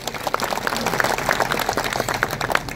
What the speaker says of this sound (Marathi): एकदा जोरदार टाळ्या वाजवा.